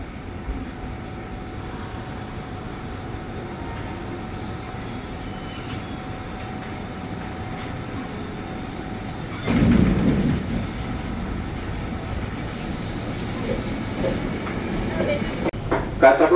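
A KRL Commuter Line electric train departs Bojong Gede station, its wheels squealing in long high tones over a steady rolling rumble, loud and close, with a heavier surge of noise partway through.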